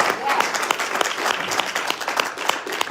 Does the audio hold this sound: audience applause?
yes